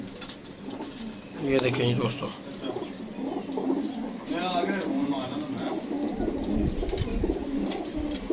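Pet pigeons coo softly and repeatedly at close range in a home loft, their low rolling calls running under a voice as he speaks.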